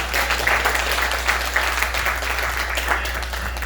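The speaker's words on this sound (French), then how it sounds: "On acclame s'il vous plaît." A church congregation applauding to welcome sister Dorville, steady sustained clapping from a crowd indoors over a low background hum.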